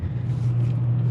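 A Dacia Jogger rolls over bumps with a steady, loud low rumble of engine and road noise and no voices.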